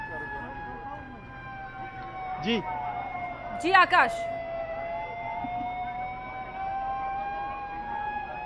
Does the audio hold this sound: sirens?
yes